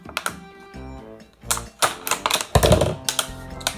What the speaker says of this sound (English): Make a little cut, and then you can put your scissors in and cut a circle the whole way around.